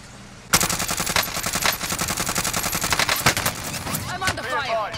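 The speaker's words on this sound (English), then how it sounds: "I'm under fire." Automatic gunfire in Call of Duty Modern Warfare, a sudden burst of rapid, loud machine-gun fire starting abruptly and rattling on steadily, with brief voices near the end.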